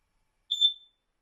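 A Kidde combined smoke and carbon monoxide alarm gives a single short, high electronic beep, loud and clear against silence.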